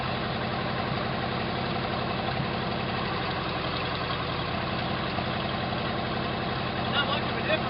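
A junkyard Jeep engine idles with a damaged cylinder, a steady, close, low rumble with an uneven, loping beat running throughout, and a voice is heard over it.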